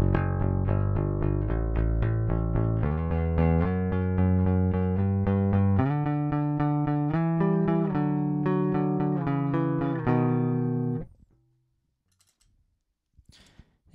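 Fender Precision Bass played dry through a bypass path and looped on a TC Electronic looper, a clean melodic bass phrase of plucked notes for about eleven seconds, then near silence with a couple of faint clicks.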